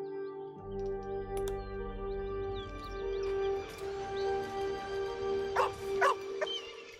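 A dog in the Baldur's Gate 3 video game gives a few short, soft barks and yips at moderate distance over a steady ambient musical drone.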